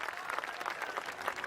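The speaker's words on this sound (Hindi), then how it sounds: "तालियां कम है आपकी" An audience at a Hindi comic poetry gathering breaks into a brief, dense burst of clapping that stays steady and moderately loud for its short length.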